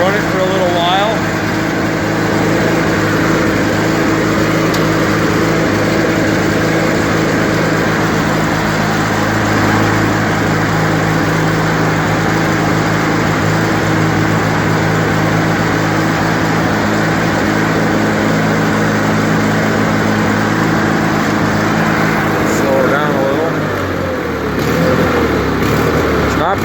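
A John Deere 316 garden tractor engine running unchoked, a loud steady close-up drone that holds evenly for most of the time before dropping and changing near the end, with speech over it.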